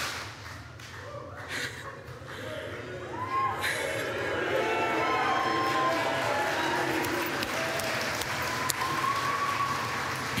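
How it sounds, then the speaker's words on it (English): An audience claps together in a room for a well-liked helper, a steady crackle of many hands that swells partway through, with voices murmuring underneath. "Clap if you graciously relied on Terry's services."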